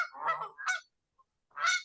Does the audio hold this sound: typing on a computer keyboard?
no